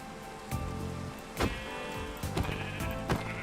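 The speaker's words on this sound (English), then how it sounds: "Oh, sheep." Sheep bleat in a blocky sandbox video game, with several medium-loud bleats spaced a second or so apart over a steady background patter.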